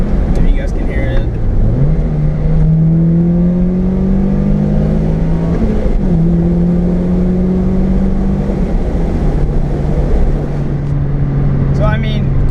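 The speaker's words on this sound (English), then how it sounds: "let's just roll down the windows a little bit and downshift to get a little cool" A Toyota MR2 engine heard from inside the car with the windows down, droning steadily and dropping in pitch around a downshift, then holding a low hum with road and wind noise, loud and close.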